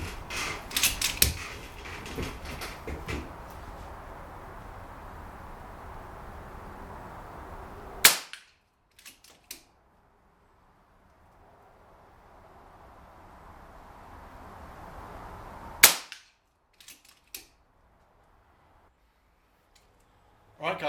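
An air rifle firing JSB pellets: a few sharp cracks, each followed by a short metallic clatter of reloading, with long quiet gaps between shots and some low background noise.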